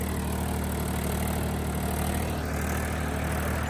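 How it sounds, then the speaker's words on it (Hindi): A tractor drives a new 7-foot rotavator through a sugarcane field, its engine a steady loud rumble with a rattling edge, running without a break from start to end. "नया रोटावेटर है 7 फीट का।"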